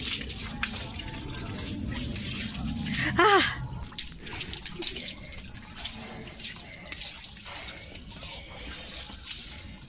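A German Shepherd plays with water from a hose pipe, making continuous splashing and spraying with a gurgling burst partway through, fairly close, with a person briefly audible in the background.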